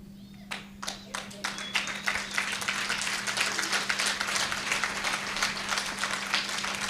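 An audience at an International Women's Day 2024 event claps for the men standing among them, starting as a few scattered claps and building into steady, continuous applause over a low constant hum.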